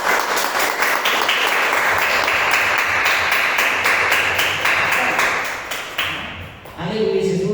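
Church congregation clapping in worship at a Portuguese-language prayer service, dense and steady applause throughout with a few brighter taps, tapering briefly near the end as a voice comes in.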